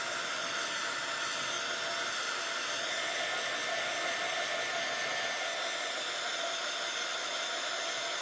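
A hair dryer blows steadily on a vintage chenille snowman, making a constant loud, even whoosh that runs for the whole stretch with no pauses.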